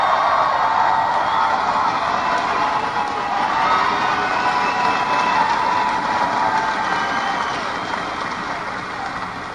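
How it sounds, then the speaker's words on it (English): A crowd at a Paul Ryan campaign rally in Oakland, Michigan, gives a sustained, loud wash of applause and cheering that holds steady and then fades slightly near the end. "I know that applause is for our troops and not for me"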